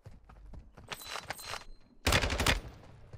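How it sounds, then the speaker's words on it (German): A sniper rifle shot through a wall in Call of Duty Warzone: a loud, sharp blast about two seconds in, preceded by lighter movement and clatter, close and prominent. "Schöner Wallbang-Hit da sogar noch."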